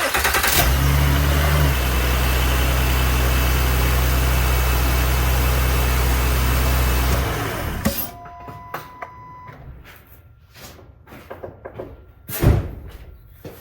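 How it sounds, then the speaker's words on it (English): A car engine with a newly replaced starter cranks and starts from cold, then runs at a loud steady idle for several seconds before cutting off, followed by quieter clicks and a sharp knock. "We're gonna do a cold start,"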